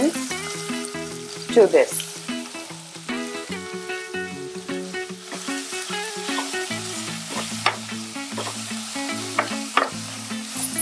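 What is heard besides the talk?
diced onions frying in hot oil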